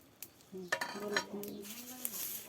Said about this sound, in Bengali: এবার ভেজে রাখা মাছগুলো দিয়ে দিল এবং শুধু ঝোলের বলক উঠলেই হয়ে যাবে